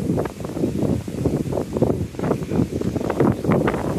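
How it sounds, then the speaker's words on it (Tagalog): Strong wind in a park buffets the microphone in steady, rumbling gusts, a loud low roar with leaves rustling, and no one speaking. "ang lakas ng hangin"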